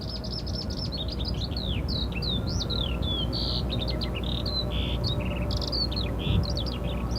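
Busy bird chirping at London Gatwick Airport, quick varied tweets and whistles repeating throughout, over a steady low background hum; no voices.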